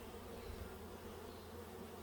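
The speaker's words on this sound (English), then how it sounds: "You can see all this bucket of bees" Honeybees buzzing inside a bucket, a faint, steady low drone that holds evenly with no breaks.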